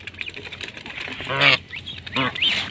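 White geese honking at close range, a few loud harsh calls in bursts around the middle and end, with quieter grunting calls between.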